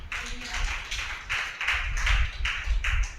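A church congregation claps hands together in repeated bursts of rhythmic clapping, fairly close and steady, with brief pauses between rounds.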